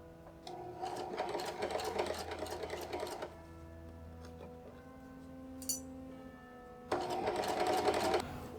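A sewing machine stitches a Viking serk sleeve in two fast whirring runs, close and steady, separated by a quieter hum with a brief clink before the second run.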